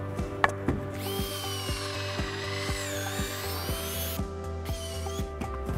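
A power drill bores pocket holes in the bottom of shelf boards for a farmhouse bench. A loud, sustained motor whine runs throughout, punctuated by steady rhythmic ticking clicks and a rising then falling pitch as the bit works the wood.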